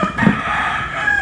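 Chickens in a backyard coop make a brief close, loud burst of crowing and clucking, alone with no talk.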